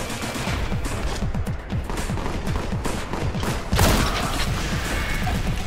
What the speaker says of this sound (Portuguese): já tô tomando tiro aqui